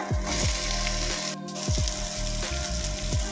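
Onion, garlic and ginger fry in a pan for a tomato chutney, giving a loud, steady sizzle with occasional stirring scrapes and a brief dip in the noise midway.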